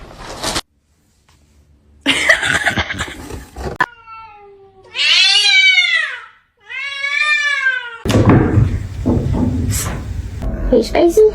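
A cat lets out two long, drawn-out wailing meows, loud and close, between stretches of people talking and other noisy bursts.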